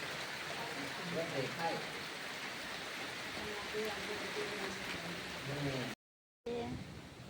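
Steady rain pours down outdoors in an even, continuous hiss that stays close and loud for the whole stretch, with a voice talking over it.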